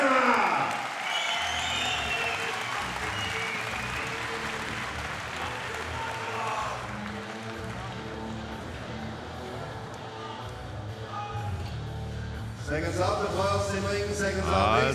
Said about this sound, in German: Ihr Applaus bitte für zwei Männer Jussachs.